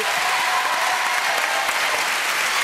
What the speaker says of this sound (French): Applaudissements pour ce jeune homme.